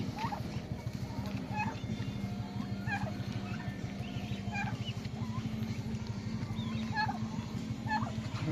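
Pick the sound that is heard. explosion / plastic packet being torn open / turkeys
turkeys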